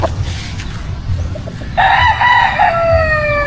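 A white Kelso gamefowl rooster on a farm lets out a loud, close crow with a long drawn-out tail, after a second or so of faint clucks and background farm noise.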